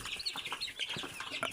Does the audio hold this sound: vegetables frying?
no